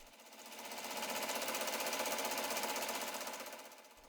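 A sewing machine stitches the fabric background of a thread painting, its needle hammering in a fast, even rhythm that swells up and then eases off, close and alone with no talking.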